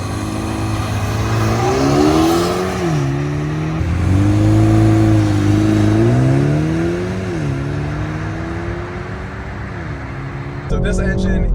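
A 2020 BMW 330i with a 2-liter twin-scroll turbo four-cylinder pulls hard under acceleration, its engine note rising and stepping through gear changes in a loud, steady drone that ends with a brief rattle.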